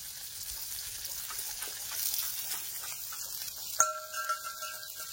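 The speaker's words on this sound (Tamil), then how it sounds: "எண்ணெய் அதிக சூடாக தான் மேலே பொரிக்குன்னு சொல்லிட்டு அந்த மாதிரி போடுறாங்க." Steady crackling sizzle of umbrella mushrooms frying in hot oil, moderately loud and close, with a brief metallic clink partway through.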